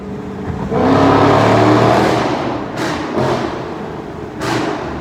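A loud engine roars as a car accelerates nearby in a tunnel, with a heavy steady rumble and a few brief bursts of noise.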